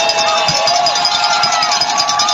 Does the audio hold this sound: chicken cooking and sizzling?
no